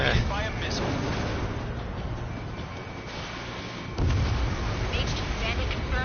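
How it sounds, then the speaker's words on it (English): A missile strikes a bomber in the Ace Combat 7 flight game, with a dense rumbling blast over continuous jet roar that swells again into a fresh burst midway, mixed with game radio chatter. "Bomber hit by a missile."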